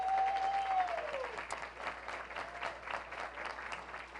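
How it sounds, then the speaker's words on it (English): An audience at a neighborhood best practices conference applauds, and the steady clapping from a roomful of people fills the space for several seconds, starting just as a spoken voice fades out. "Let's give them a round of applause."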